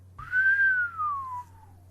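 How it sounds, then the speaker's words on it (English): A single clear whistle rises briefly then glides slowly downward over about a second, heard alone over a faint low hum. "Big Sue whistled low."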